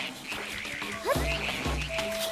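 Two deep frog croaks in The Legend of Zelda: Echoes of Wisdom video game over a light, tonal musical background, with soft high chirps scattered throughout.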